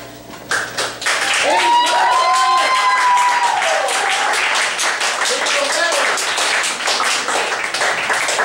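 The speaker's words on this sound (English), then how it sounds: "Give him a round of applause, ladies and gentlemen" Audience applause for performer David Moss, starting thin and then swelling into full, sustained clapping from a crowd, loud and continuous, with a voice talking over it.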